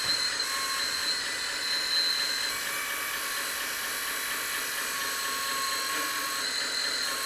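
A JDM-88 870K metal 1/14-scale RC hydraulic wheel loader lowers its arm: a steady, high whining hydraulic pump and motor drone runs without break, close and fairly loud.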